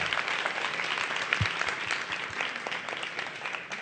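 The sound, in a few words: audience applause welcoming a guest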